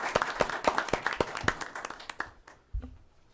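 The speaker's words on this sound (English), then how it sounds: "Let's give everybody that was awarded tonight another round of applause." A small audience at a school district board meeting claps for award recipients, a brief burst of sparse, individual claps that thins out and fades to quiet, with one last clap near the end.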